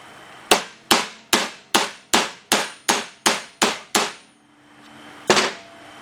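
A socket used as a driver is hammered to seat an axle seal during a Dana 30 axle rebuild, giving ten sharp metallic strikes in a steady rhythm, then a pause and one final blow, loud and close.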